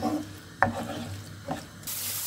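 Browning onions and garlic with spices being stirred in a pan for a simple pasta dish: a few scrapes of the spoon, a sharp knock, over a faint steady sizzle, no talking.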